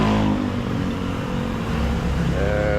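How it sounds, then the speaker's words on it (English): Scooters pass close by a roadside vulcanizing tire repair shop, their engines whirring and revving loudly and continuously, with a rising whine toward the end. "And the noisy scooters"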